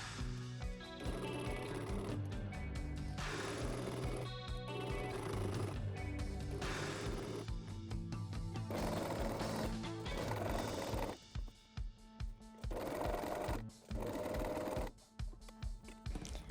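A sewing machine edge stitches the waistband of linen pants with its lining, whirring loud and close in long continuous runs, then breaking into short stop-start bursts toward the end.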